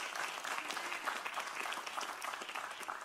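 A church congregation claps in a continuous, fairly faint patter, many hands overlapping evenly for a few seconds with no talking on top.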